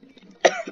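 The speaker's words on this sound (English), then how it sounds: "Sorry, I coughed everybody." A single sharp human cough bursts out near the end, preceded by faint low murmuring.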